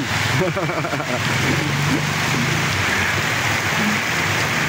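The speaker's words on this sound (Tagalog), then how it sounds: "Lakas ng ulan." Heavy rain pours down loudly and continuously, a dense roaring wash, with a voice talking over it in the first seconds.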